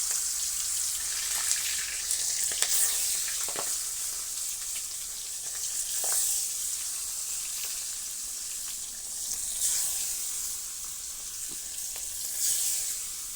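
Grated coconut sizzling in hot oil, a steady close frying hiss with occasional sharper crackles and pops, no voices.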